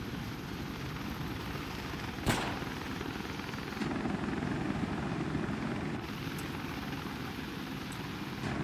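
Helicopter in the WARDOGS combat game, a steady dense rotor and engine drone running throughout with a sharp impact near the start and minor shifts in level.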